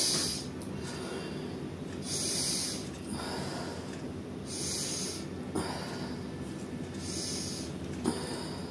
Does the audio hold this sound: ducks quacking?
no